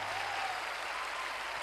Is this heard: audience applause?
yes